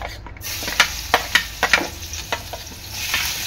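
Garlic fries in a hot kadhai with a bright, crackling sizzle, punctuated by several quick spoon clinks and scrapes.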